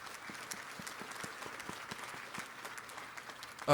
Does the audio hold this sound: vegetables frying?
no